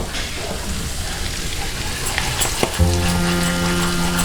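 Hot oil sizzles and spatters steadily in a pan as red chili powder goes in, a constant crackling hiss with a brief clink partway through.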